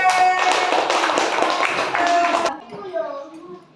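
A primary school class claps for a group of classmates, a dense burst of hand claps that stops abruptly, followed by a voice speaking.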